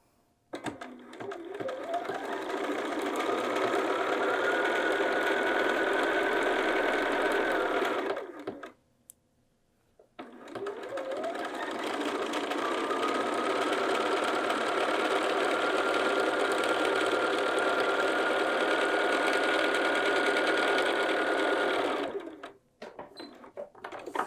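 A sewing machine stitches along a pocket edge in two long, steady runs separated by a brief pause, loud and close with a constant motor whir and rapid needle rhythm, ending with a short quiet tail.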